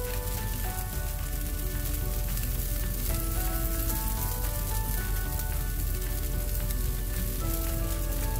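Cheese dosa frying in a hot pan, topped with grated cheddar and Monterey Jack, gives off a steady, dense close sizzle and crackle that runs without a break and with no talking.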